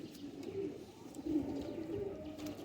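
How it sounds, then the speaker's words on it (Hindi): Ferozpuri pigeons cooing softly in a steady, low murmuring run of coos, close by and continuous with no talk over them. "अब ये वो कबूतर हैं"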